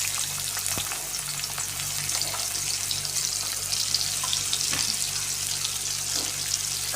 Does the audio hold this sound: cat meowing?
no